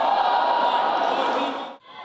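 A national volleyball team shouts a loud, forceful group chant in unison at the start of training, a dense wall of voices that holds steady and then cuts off sharply near the end.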